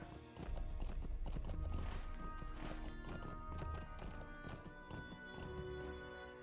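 Horse hooves clip-clop in the online game Lord of the Rings Online (LOTRO) at a steady trotting rhythm, close and continuous, over a sustained tonal background, with a brief whinny-like call.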